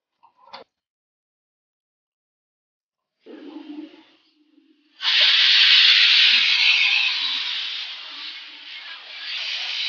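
A stovetop pressure cooker of beetroot biryani lets out its whistle: a few faint clicks and rattles, then a loud, sustained, steamy hiss that holds to the end with no voices.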